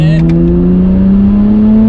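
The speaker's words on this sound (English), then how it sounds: "Great noise out of that titanium system." Nissan GTR R32 engine revving through a titanium exhaust, loud and close, a short sharp blip that settles into a steady droning hum.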